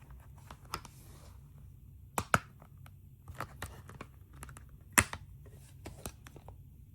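Plastic shrink wrap being torn and peeled off a boxed Capcom Arcade Stadium Vol. 1 limited game release, quiet crinkling and scattered sharp tearing snaps close by, no voice.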